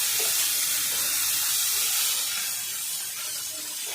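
Mint and onion fry in a pan with a steady, close, full hiss and sizzle that eases slightly toward the end, with faint stirring beneath.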